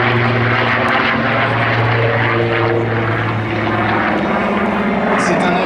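Spitfire Mk XIV warplane with its Rolls-Royce Griffon engine, a loud continuous propeller drone that holds steady and shifts in pitch part way through, with a voice speaking underneath.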